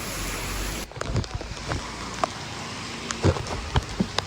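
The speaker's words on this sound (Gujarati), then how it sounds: "તો જો ભાઈ આટલો વરસાદ આવે છે." Steady hiss of heavy first-monsoon rain in Ahmedabad, with scattered louder drops and taps landing close by, after a brief change in the background noise near the start.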